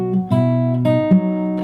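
Acoustic guitar plays a short phrase from a song: a few picked and strummed notes ringing together, close and clear, with no talking.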